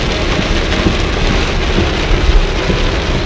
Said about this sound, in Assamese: বৰ ভয়ংকৰ বৰষুণ দিছে, ভয়ংকৰ